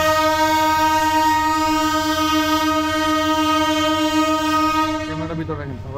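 A train at Laksam Junction railway station in Bangladesh sounds a long, loud, steady horn blast that holds for several seconds before cutting off, with station rumble underneath.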